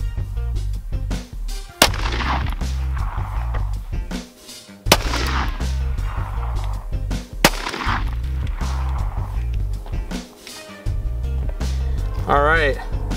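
Three sharp 9mm pistol shots of Polycase ARX ammunition, fired into a pork butt, crack out at a steady spacing, loud and close, with people talking between them.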